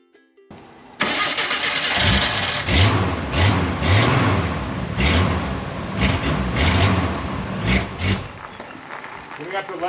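A 1987 Jeep Wrangler engine with a freshly worked carburetor cranks and catches, then runs with a steady, loud idle and rough pulsing revs while warming up, with a voice speaking over it.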